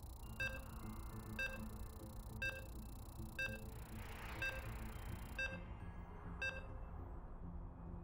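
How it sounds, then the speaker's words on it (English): Repeated short electronic beeps while loading into the final match of a competitive online shooter tournament, about one per second in a steady rhythm, clear over a constant low game hum. "So you can hear the beeps, and we are loading into that final game."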